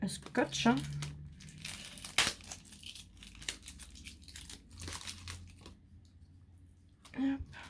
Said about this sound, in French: Je me bats avec le scotch.